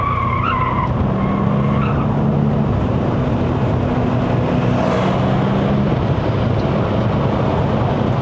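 A 2012 Audi S8 with a 4.0L TFSI bi-turbo V8 and Quattro all-wheel drive climbing a mountain road, the engine droning loud and close under heavy road and tire noise, with brief squeals, no voices.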